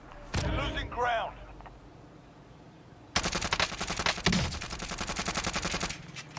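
Automatic rifle fire with a 30-round magazine in a battle royale video game, first a short burst of game voice chatter, then about three seconds of rapid, loud, continuous shots ending abruptly.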